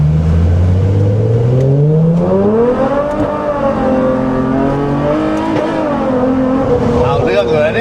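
A Toyota 2GR 3.5-litre V6 mounted in an MR-S with a DSG gearbox revs hard from inside the cabin. The engine note climbs and falls through the gears, loud and close, with voices in the car.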